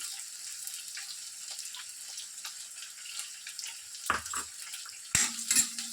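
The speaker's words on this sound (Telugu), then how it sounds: "ఆనియన్స్ని కాస్త క్రష్ చేసి వేస్తే విడివిడిగా వచ్చేస్తాయి త్వరగా మనకు ఫ్రై అయిపోతాయండి" Sliced onions, crushed to separate the layers, frying in a pan with a soft steady sizzle and hiss, broken by a few louder stirring clatters and scrapes near the end.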